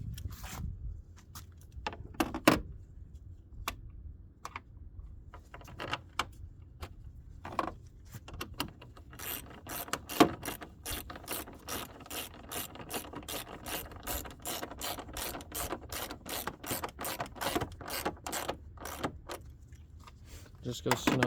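A hand ratchet tightens the bumper bolts on a Hyundai Accent, making quick, crisp clicking runs that grow steady and continuous, with a few clanks from tools and parts.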